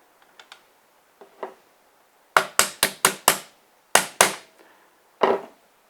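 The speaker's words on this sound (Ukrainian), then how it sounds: "Для цього використаємо молоток та виколотку, що йде в комплекті." A few light taps, then a run of sharp, ringing metallic hammer blows on a drift punch in quick groups, ending with one final strike; close and loud with no talking.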